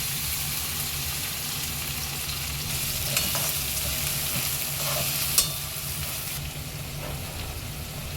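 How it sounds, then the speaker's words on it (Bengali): A blended spice paste is poured into a pan of fried onions with dried red chilli and stirred, producing a steady low sizzle with soft scraping and a few light clinks of the spoon, no voices. "এবার মিক্সিতে যে পেস্টটা তৈরি করেছি সেটা ঢেলে দিচ্ছি"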